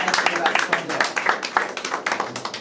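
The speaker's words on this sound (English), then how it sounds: "Come on, keep clapping." Audience clapping for a guest's arrival at a lifestyle hotel event, a steady patter of hands that comes and goes in small bursts, with talk running over it throughout.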